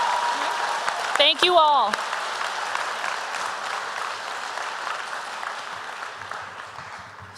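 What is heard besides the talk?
applause for veterans and scholarship recipients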